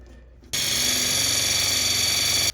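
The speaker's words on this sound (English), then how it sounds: "we're gonna go ahead and start with our wire brush" Wire brush on a power tool scrubbing paint off a Ram truck body, starting abruptly after a quiet moment and then whirring as a loud, steady, continuous grind close by.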